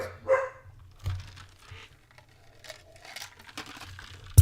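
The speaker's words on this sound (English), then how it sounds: "my dogs are all going crazy" Dogs bark a few times at a moderate distance in a home during a storm, short scattered barks over quiet background rustling.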